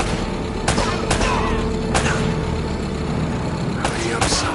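Bursts of gunfire from the Uncharted video game featuring Nathan Drake, several sharp shots spaced across a dense, loud background of game action, with voices talking over it.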